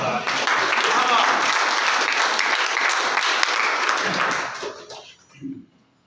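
An audience claps for a poet at an Urdu poetry recital: loud, dense, sustained applause that holds steady for several seconds, then tapers off with a last scattered burst of claps.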